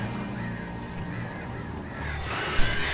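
Birds squawking in the video game Alan Wake, with a few honking calls over a low ambient drone and a sharp burst of noise near the end.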